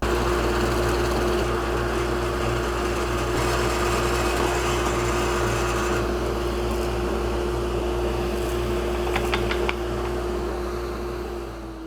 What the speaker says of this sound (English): A quick 20 holes later, technically 22 for the buttons, we have our front panel drilled